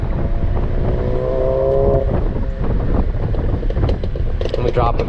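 A 2008 BMW 328xi Sport Package engine rumbles close and loud from inside the car while it drives in sport mode. Someone talks over the steady engine and road noise.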